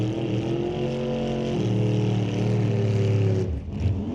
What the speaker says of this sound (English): Jan in the Camaro.